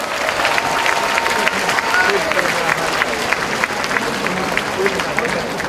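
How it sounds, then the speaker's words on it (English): Sustained audience applause welcoming performers at a Korean festival in New York, a dense steady wash of clapping with some crowd noise, continuous and fairly loud throughout. "Let's give real New Yorkers welcoming round of applause."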